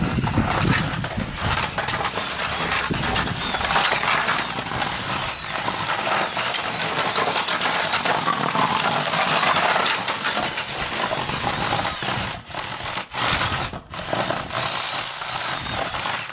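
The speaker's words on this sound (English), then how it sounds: "that's one of the clutches kicking in, that is" The slipping clutch of a Team SC cordless drill motor, loosely mounted and not tightened down, gives a continuous, close, loud rattling chatter with a few brief dropouts near the end.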